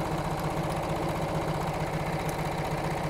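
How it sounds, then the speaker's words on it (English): A sewing machine runs continuously while stitching around the edge of a drawstring bag lining, giving a steady rapid mechanical whir with a dense rhythmic pulse, close and unbroken for the whole stretch. "I'm going to sew them together all around the edge"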